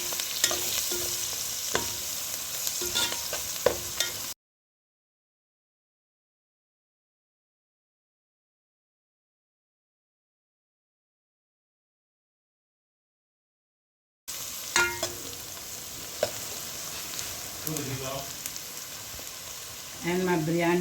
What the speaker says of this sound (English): And my turmeric powder. I will let it all this fry now.